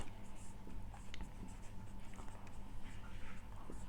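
A pen moves across paper, writing and drawing a line: a faint, close scratching with small strokes and taps against a quiet room hiss.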